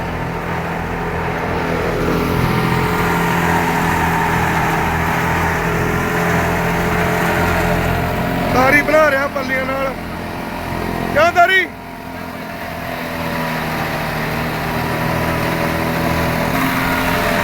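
A 1998-model tractor engine runs steadily throughout, a continuous low idling rumble with brief bursts of people talking nearby over it.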